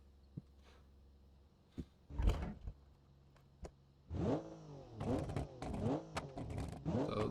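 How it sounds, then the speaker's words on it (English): After a few quiet clicks, a 375 hp sports car engine built in Automation and driven in BeamNG.drive revs up, its pitch rising and falling in repeated surges with sharp pops of backfire. "the engine, it backfires a little bit. Sounds good."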